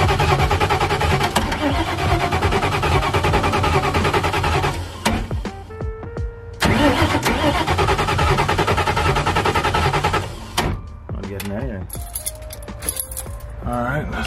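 A Ford Mustang with a 4-valve engine swap cranks repeatedly without catching, the starter churning loudly in long bursts with pauses between, alongside jangling keys and a voice speaking nearby.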